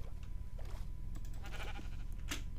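Sheep in the Minecraft video game bleat in a few short calls over a constant background hum.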